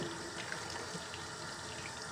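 Tap water running over leopard tortoise eggs while they are washed, a quiet, steady stream splashing in a sink, continuous and alone with no talk.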